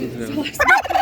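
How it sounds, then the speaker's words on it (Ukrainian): A large pedigree male turkey at a village market lets out a short, loud gobble, a burst of rapid warbling notes close by. "Дивіться, який породний індик."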